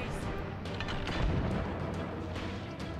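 Shots and booming impacts from combat in the fantasy video game Aarklash Legacy, several muffled thuds and cracks over a steady game background at moderate loudness.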